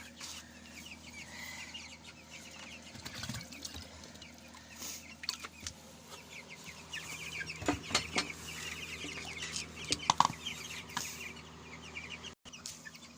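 Broiler chickens cluck softly and sporadically in a poultry shed while water is poured into their drinker, with faint clinks of a container among the quiet background.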